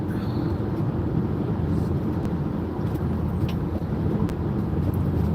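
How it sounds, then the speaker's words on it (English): Steady road noise from inside a moving vehicle in traffic on the drive home, heading into Mississauga, with a constant broad low rumble and no talk. "Yay, traffic again."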